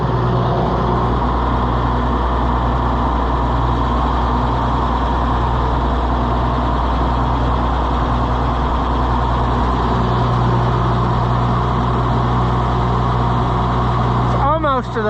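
Old truck engine that had not run for a long time, idling loudly and steadily up close with a deep, even low rumble, speech over it near the end.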